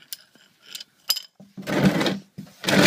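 A wrench works loose the oil drain plug on an Infiniti G37, making a series of close ratcheting clicks and metallic scrapes in short bursts with brief gaps.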